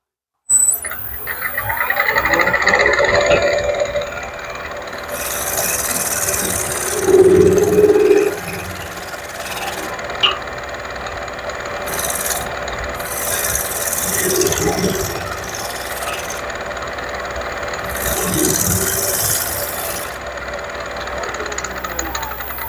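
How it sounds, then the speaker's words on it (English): A freshly sharpened bowl gouge shear scrapes a spinning wooden bowl on a lathe, giving rough, rasping passes over the steady hum of the running machine, loud and close, with quieter stretches between cuts. "let's try that shear scrape again, see if we get on a little bit better this time."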